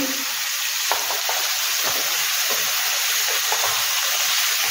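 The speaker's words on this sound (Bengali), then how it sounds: "একটু ভেজে নেব, চিংড়ি মাছগুলোর কালারটা একটু চেঞ্জ হবে" Prawns frying in a hot pan for a mustard and poppy-seed prawn dish, making a loud, steady, close sizzle with a few soft stirring knocks and no voices.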